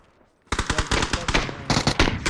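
Rapid bursts of automatic gunfire in PUBG on the Erangel map, starting abruptly after a quiet moment and continuing as dense, loud, repeated shots with brief gaps, close and dominant.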